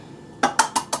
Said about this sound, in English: I'm going to crack these into a bowl